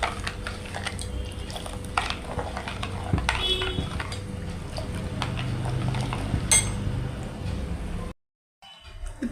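A spoon scrapes and clinks around a metal pot while jaggery powder is stirred into a liquid junnu mixture, close, irregular stirring strokes with light clatter that stop abruptly near the end.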